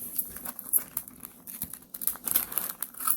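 Scissors snip and crinkle through paper while a small printed image is cut out, a close run of light irregular clicks and rustles with no talking.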